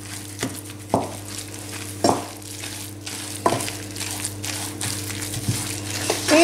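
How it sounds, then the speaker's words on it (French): A spoon works potato into a stuffing in a pan, mashing and stirring it in, with a few sharp scrapes and taps over a steady low hum. "j'écrase la pomme de terre avec le reste de la farce"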